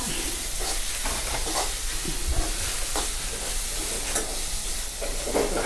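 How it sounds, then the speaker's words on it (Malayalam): Potatoes frying in a pan in a home kitchen give a steady, close sizzling hiss, with occasional faint stirring scrapes and no voices. "കുട്ടികൾക്ക് ഉരുളക്കിഴങ്ങ് വറുക്കാം ഉരുളക്കിഴങ്ങ് വറുക്കാം"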